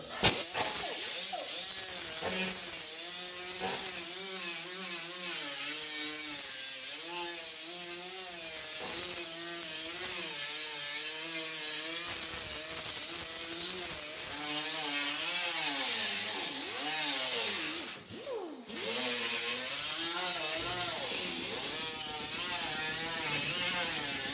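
An angle grinder with a disc rounds out an edge on a rusty 1948-54 Chevy truck door, a loud continuous whine that rises and falls in pitch as it bears on the metal, with one brief dip near the end.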